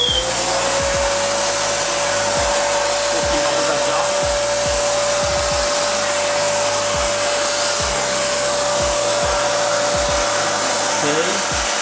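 A Family Care bagless cyclonic vacuum cleaner, a 700W machine with a 3L tank and a HEPA filter, runs loud and steady as a constant whooshing roar with a whine in it, running alone throughout.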